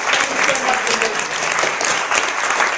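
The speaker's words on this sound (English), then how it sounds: "Give it a round of applause." Audience applause on a stage at a live talk, steady dense clapping from a crowd filling the whole stretch at even loudness, with no pauses.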